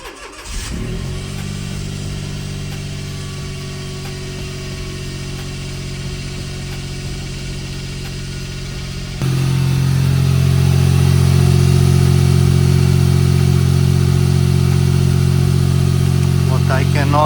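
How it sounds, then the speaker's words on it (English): A Smart Roadster engine cranks and catches, idling with a steady low hum, then rises to a louder, higher idle that holds evenly to the end. "Let's try to start the car."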